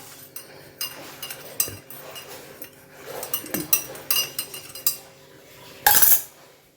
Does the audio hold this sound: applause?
no